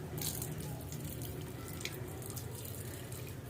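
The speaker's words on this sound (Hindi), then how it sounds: "गंदा पानी आ रहा है।" Dirty water running from a newly fitted tap, a soft continuous splashing and trickling with faint dripping, quiet and steady throughout.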